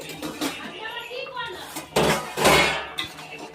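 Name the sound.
lid being taken off a pot of chutney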